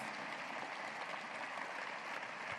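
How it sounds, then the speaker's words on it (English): An audience at a university State of the University address gives a sustained round of applause, a dense, even wash of many hands clapping at a steady level with no voices standing out. "give them a hearty round of applause"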